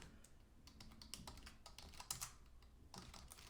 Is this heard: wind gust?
no